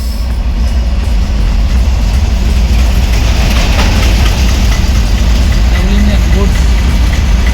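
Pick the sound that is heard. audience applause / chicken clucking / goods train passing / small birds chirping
goods train passing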